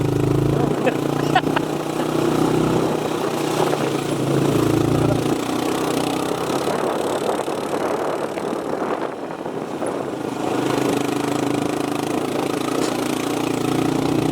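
A low, steady engine rumble idling nearby, like a motorcycle, with voices talking over it.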